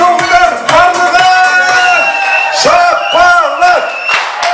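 Guests at a Kazakh betrothal wedding feast cheering and whooping loudly together, a continuous close burst of raised voices with little distinct clapping.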